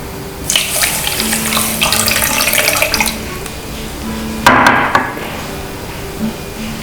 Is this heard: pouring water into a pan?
yes